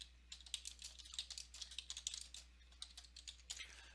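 Rapid typing on a computer keyboard, a steady run of light, close key clicks with brief pauses between bursts, quiet and with no one talking.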